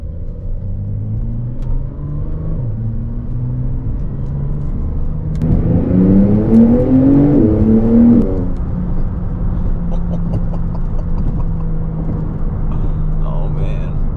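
A Porsche 911 992 Turbo S, a convertible with carbon ceramic brakes, accelerates hard, its engine rising in a rising turbo spool that swells mid-clip and then settles into a steady cruising rumble, heard from inside the car.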